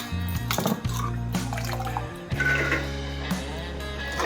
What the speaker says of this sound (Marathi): भाजी धुवून घेते मी